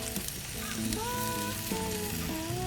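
Korean style ribs sizzle steadily on a barbecue cookoff grill, a continuous close crackle and hiss with faint tonal whines and background noise layered over it.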